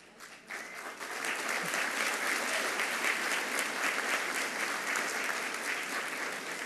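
Sustained applause from a large graduation ceremony audience, steady and dense after a quieter start, filling the whole stretch with no talk over it.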